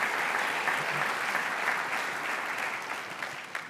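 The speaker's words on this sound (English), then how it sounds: "Let's give them a round of applause." Full audience applause for an 8th grade band at a middle school spring concert, dense and continuous, gradually fading toward the end.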